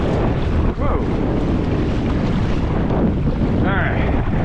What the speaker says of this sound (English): trying to paddle against that wind with these waves is not fun.